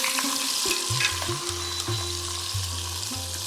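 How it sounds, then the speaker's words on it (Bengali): Fish frying in hot oil in a home kitchen, a steady close sizzle and crackle with occasional stirring or utensil sounds, no voices. "এবার মাছটা ভেজে তুলে নেব, এই তেলেই রান্না করব।"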